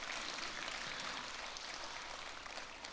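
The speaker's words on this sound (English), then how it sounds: "Please imbibe the culture of clapping." A large audience claps steadily at a formal anniversary ceremony, a dense, even wash of applause that holds at a constant level throughout with no voices over it.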